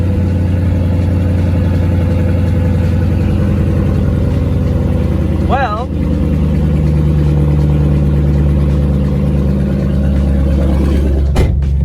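A 2006 Mustang GT engine idles with a loud, deep exhaust drone, steady throughout, with a brief rev midway and a single word spoken.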